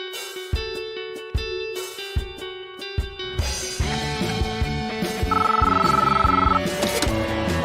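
A telephone rings for an inbound call to a radio show: repeated electronic ring bursts at first, then they continue under layered electronic tones and effects that build up and grow louder.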